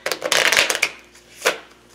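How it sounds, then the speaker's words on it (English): A deck of Bob Ross cards being shuffled: a dense run of papery riffling and flicking in the first second, then a short quiet gap and one more brisk shuffle burst, close and moderately loud. "I have my deck of Bob Ross cards here, and I'm just going to go ahead and shuffle them"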